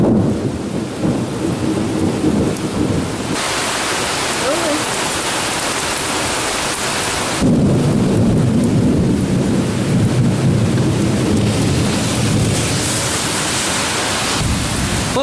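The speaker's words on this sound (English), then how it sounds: "but it's raining." Heavy, steady rain pours outdoors as a loud, dense hiss that thickens partway through, with gusts of wind and low rumbling mixed in.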